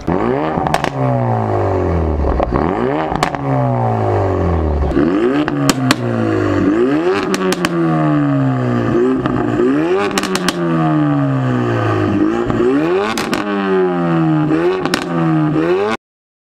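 A tuned car engine fitted with a Scorpion exhaust revs hard again and again at the TRAX 2018 show, each blip rising sharply and falling back with a crackling, popping exhaust note, loud and close, repeating in quick bursts before cutting off.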